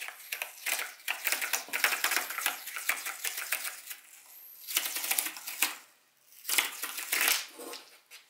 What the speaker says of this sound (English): From the opposite end, I started peeling the tape back until all the pieces popped free and were held in place in order.